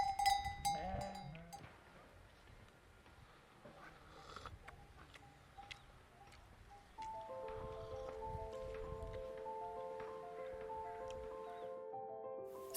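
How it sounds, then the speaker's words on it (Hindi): A herd of about 100 goats grazes in a Himalayan meadow on the Kumaun–Garhwal border, with scattered soft bleats and a bell tinkling steadily in the background, faint and distant. "तो ये सारी अंकल जी की बकरियां हैं।"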